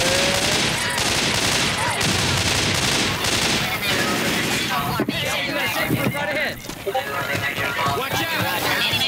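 Sustained rapid gunfire from the Left 4 Dead video game, dense overlapping bursts filling the whole stretch, loud and continuous with brief lulls, while game voices call out over the shooting.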